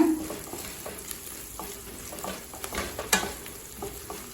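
Onions sautéing in a pan for chana rice crackle and sizzle steadily up close, broken by a few scraping stirs of a spoon, with no one talking.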